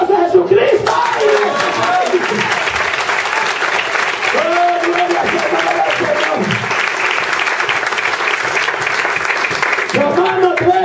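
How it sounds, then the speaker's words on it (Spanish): Congregation applauding during a church sermon in Honduras, sustained loud crowd clapping throughout while voices call out and speak over it. "Un aplauso a Jesucristo."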